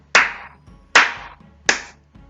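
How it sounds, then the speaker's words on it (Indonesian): Three sharp hand claps ring out one by one at an even, unhurried pace, each loud and close with a brief decay, and nothing else is heard between them. "Tepuk tangan misalnya."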